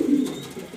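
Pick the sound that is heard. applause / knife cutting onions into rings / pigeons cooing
pigeons cooing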